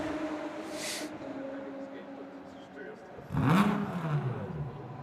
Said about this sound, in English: revving the engine